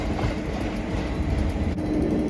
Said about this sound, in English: passing through now is the return of the DB Schenker Class 66 en route from Eastleigh T and RSMD to Eastleigh T and RSMB